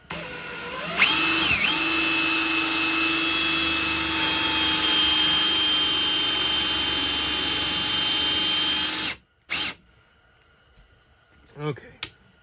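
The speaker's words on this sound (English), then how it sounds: "I'm gonna go ahead and re-drill where I had that dowel." A power drill bores back into a dowel hole in a Bullet Mustang guitar body, running at a loud steady whine for about eight seconds before stopping, followed by a few short clicks and handling noises.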